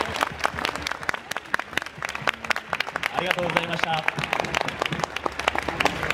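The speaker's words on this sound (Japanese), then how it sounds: "今一度大きな拍手を。" An audience claps after a Tsugaru shamisen performance at a cultural festival, scattered and then fuller applause running throughout while a host speaks over it.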